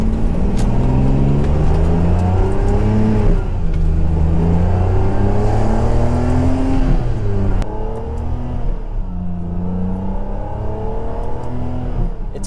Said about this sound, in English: That V12 sounds crazy.